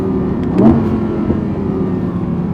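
An Audi R8 GT V10 engine running loud and close, with a brief rev early on, then a steady, throaty drone.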